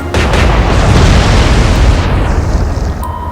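A naval gun salvo fires in the Atlantic Fleet game, a loud booming blast that holds as a dense, rumbling roar for about three seconds before a faint tone cuts in near the end.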